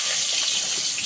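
Potatoes dropped into hot oil tempered with bay leaf and whole cumin, for a cabbage dish cooked with fish head, crackling as a steady, close, bright sizzling hiss with no voices.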